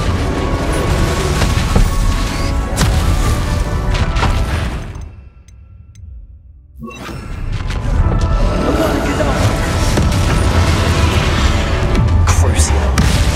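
The Bombarda explosion spell goes off in Hogwarts Legacy amid dense, loud game action with booms and crashes. The din drops to near silence briefly midway, then the blasts and clatter resume at full force.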